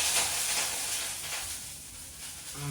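Food sizzles on a nearby stove as a steady, soft frying hiss with faint stirring, no voices heard.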